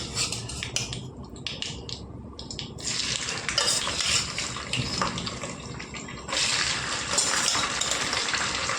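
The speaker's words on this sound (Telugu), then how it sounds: "నూనె అయితే బాగా వేడెక్కింది కదా ఇప్పుడైతే రొయ్యలు వేసుకుందామండి ఇందులోకి" Prawns dropped into hot oil in a home kitchen pan for prawn pickle, a loud bubbling sizzle that swells and settles in waves, with occasional clinks of utensils, close.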